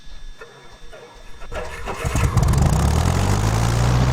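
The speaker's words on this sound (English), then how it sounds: "so let's start the engine" Piper PA-28 aircraft engine in a flight simulator cranks briefly, then catches and roars into a loud, steady rumbling idle.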